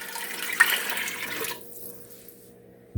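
Plain water pours in a steady rush for about a second and a half into a soup pot, then fades off, with one small clunk at the very end and no talk.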